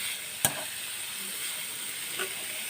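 Beetroot frying in a pan with salt gives a steady, fairly quiet sizzle with a sharp clink of utensil against pan early on and another faint scrape near the end; no one speaks.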